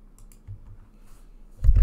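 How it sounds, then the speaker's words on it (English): Computer keyboard keys clicking in a quiet room, picked up by a microphone resting on the keyboard: a few soft taps, then a louder burst of close thumps at the end. "my microphone was on the keyboard"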